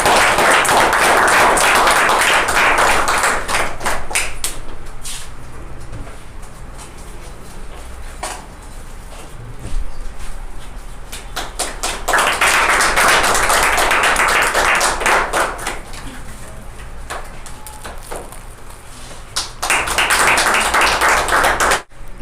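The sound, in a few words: applause for award winners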